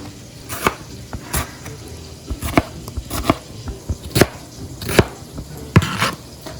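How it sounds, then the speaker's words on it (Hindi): A knife roughly chops three large tomatoes on a board, giving a dozen or so sharp, irregularly spaced thuds, close and loud with short pauses between strikes. "आपने लेने हैं 3 लार्ज साइज के टमाटर और उनको कर लेना है रफली चॉप"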